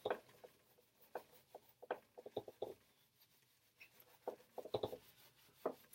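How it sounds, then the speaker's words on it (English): A cloth sock scrubs across a board to wipe away marker, giving a series of short, close, scratchy rubbing strokes in irregular bursts with brief pauses between them, and no voices. "using a sock to erase, because why not?"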